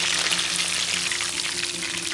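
Golden-brown fish frying in hot oil, a dense, even crackling sizzle heard up close without a break and with no voices over it.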